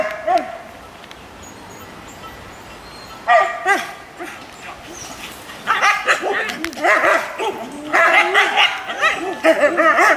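Siberian Husky sled dogs bark and yip in irregular bursts, starting sparsely and growing into busier, overlapping barking toward the end, fairly close and loud.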